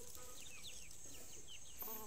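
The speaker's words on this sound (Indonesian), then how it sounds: "Ini ayamnya ini." Chickens from a backyard coop beside a corn field cluck and call in short, scattered bursts over steady outdoor background noise, with a louder cluck near the end.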